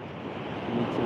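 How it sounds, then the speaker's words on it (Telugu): Ocean waves rush forcefully onto the beach at INS Kalinga in Visakhapatnam in the early morning, a steady broad wash of surf and wind noise that swells slightly over a brief moment. "వాటర్ చాలా ఫోర్స్గా పడుతుంది"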